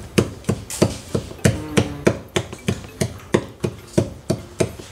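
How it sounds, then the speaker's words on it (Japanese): A kitchen knife stabs repeatedly into raw steak to pierce holes, giving a quick, regular series of sharp close thuds on a board, roughly four per second. "包丁で穴開けていきたいと思う"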